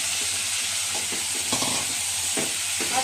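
Spices sizzle in hot oil with a constant, loud crackling hiss as fried potatoes go into the pan, accompanied by a few stirring scrapes and clacks.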